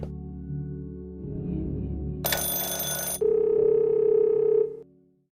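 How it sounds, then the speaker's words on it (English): Phone ringing in the video game Firework, a loud electronic trill that holds for several seconds, shifts to a steady tone, then cuts off abruptly. "Sounds like a phone ring."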